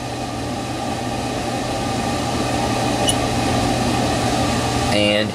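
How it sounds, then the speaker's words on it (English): Steady droning hum of a stirrer running hard in a benzaldehyde reaction flask with a gas trap attached, an even mechanical whir that holds constant, with a brief click near the end. "I will start strong stirring."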